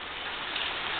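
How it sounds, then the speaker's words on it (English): Rain begins falling in a steady, soft hiss of drops on surfaces, continuous and fairly quiet with no voices. "Here comes rain."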